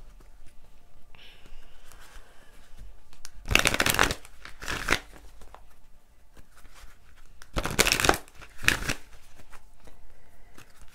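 Tarot cards get shuffled in two quick bursts of riffling and flicking, close and crisp, with soft handling noises in the quiet stretches between.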